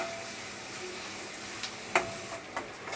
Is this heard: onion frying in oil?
yes